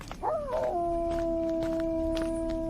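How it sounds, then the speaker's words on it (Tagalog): A dog howls at night around ten o'clock, one long, clear, mournful howl that rises and then holds a steady pitch, alone over a quiet background hiss with no voices. "ano ba namang aso yan? Umaalulong pa sa 10 oras ng gabi."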